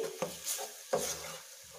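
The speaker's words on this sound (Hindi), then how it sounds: "जब तक ये अच्छे से मैश ना हो जाए मिलाते जाऊँगी इसको ऐसे" A spoon stirs and mashes bottle gourd (lauki) in a pan, giving two soft scraping knocks against the metal with faint wet shuffling between them, close and quiet.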